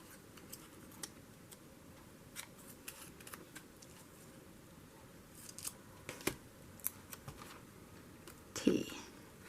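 Scissors trim a small paper letter for a journal page, soft scattered snips and light paper handling close by, with a sharper cluster of cuts near the end and no talk.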